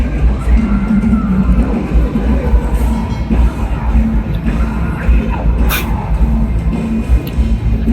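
A Swedish metal band playing live at Dynamo Metal Fest, a dense, loud, bass-heavy wall of sound heard from backstage, steady and muffled, with drums and crowd noise blending together.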